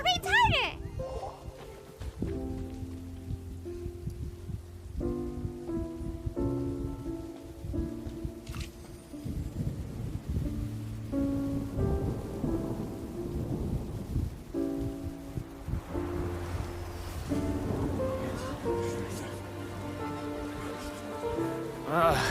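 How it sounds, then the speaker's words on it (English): Rain and thunder in the video game Genshin Impact, a steady patter of rain with low rumbles beneath it and game music playing over the top, and a voice speaks partway through. "It's raining!"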